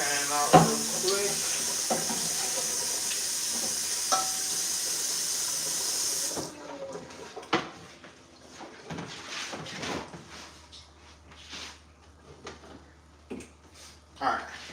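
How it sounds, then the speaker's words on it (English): Tap water runs hard into a pan as it is rinsed out, a steady hiss for several seconds before stopping, followed by scattered knocks and clatter of the pan at the sink. "Rinse this pan out real quick."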